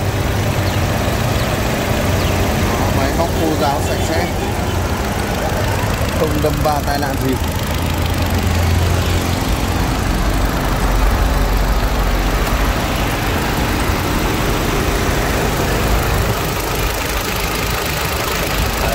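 A 2010 Chevrolet Lacetti CDX with a 1.6-litre engine idles steadily in a low, continuous rumble throughout, with someone talking over it close by.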